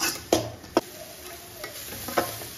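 Carrot pieces with masala and salt stirred in a pan, a soft background sizzle broken by a few sharp spoon scrapes and taps against the pan, fairly close and without talk.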